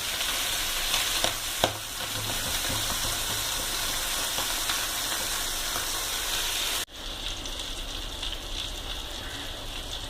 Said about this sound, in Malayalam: രണ്ട് മിനിറ്റ് ഹൈ ഫ്ലെയിമിൽ വെച്ചതിന് ശേഷം ലോ ഫ്ലെയിമിൽ വെച്ചിട്ട് വേണം ഫ്രൈ ചെയ്തെടുക്കാനായിട്ട്